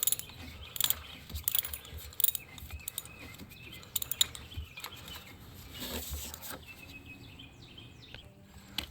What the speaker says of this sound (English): we're just gonna go ahead and get us a little ratchet and work those out